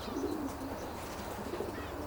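Racing pigeons coo softly inside a long wooden racing loft, with low, rolling calls that come in a couple of faint bursts over quiet room noise.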